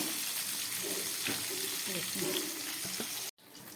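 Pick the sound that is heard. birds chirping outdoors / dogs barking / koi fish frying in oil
koi fish frying in oil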